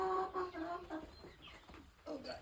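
Hens clucking inside a backyard chicken coop on a homestead during morning egg collection, a steady run of close, overlapping clucks and soft calls with no talk.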